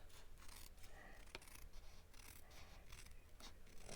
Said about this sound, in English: And now taking the paper snips, I'm going to go ahead and just trim right along the side.